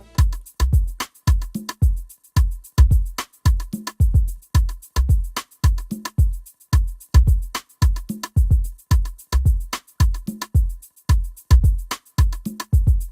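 An Afrobeats groove built in FL Studio, with punchy kicks and layered percussion hits repeating in a steady, driving pattern for the whole stretch, loud and up front with no voices.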